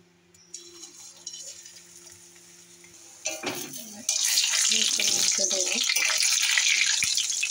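Fish roe fritters bound with gram flour, chopped onion, green chilli, salt and turmeric fry in hot oil in a wok; a soft crackle starts quietly and swells into a loud, steady, dense sizzle for the last few seconds.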